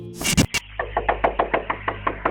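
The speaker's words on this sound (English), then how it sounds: "The doorbell camera captured a woman hysterically knocking on the door of a home in Manor, Texas." A woman pounding frantically on the door of a house in Manor, Texas: a burst of heavy loud bangs, then a quick steady run of about a dozen sharp knocks, close and clear with no talking.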